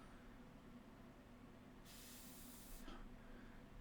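A giant steam engine in the Ultimate Admiral Dreadnoughts naval warship game gives a steady low mechanical rumble, joined by a sharp, bright hiss of escaping steam lasting about a second before it cuts off.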